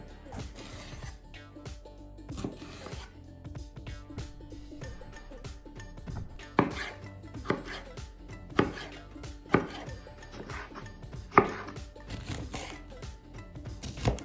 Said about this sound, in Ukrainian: Болгарський перець нарізаємо соломкою.